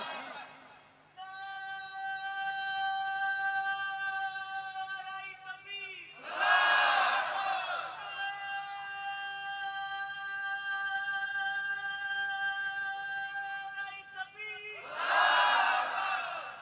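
At a Bengali religious jalsa, a crowd bursts into loud takbir shouts twice, each a short, dense roar of many voices, set between stretches of a sustained, tonal chanting voice held over a PA.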